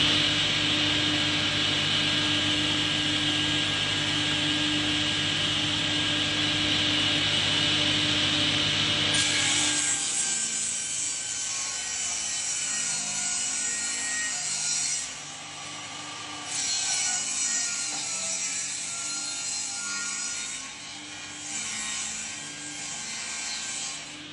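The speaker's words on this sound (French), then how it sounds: "La scie, face à toi. C'est parti, on déligne." A saw rips lengthwise along a wooden board: a dense, steady machine drone gives way to continuous rasping cutting strokes that carry on loud and close until the end of the cut.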